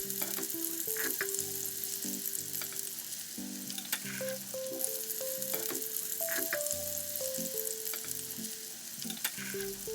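Coral fish frying in a pan over a fairly high flame makes a continuous, crackling sizzle, with soft background music running underneath.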